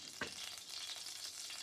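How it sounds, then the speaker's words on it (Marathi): Oil sizzles in a hot kadhai while sandge bhaji is prepared, a steady close crackling hiss with one sharper thump near the start and no voices. "कढई छान तापलेली आहे."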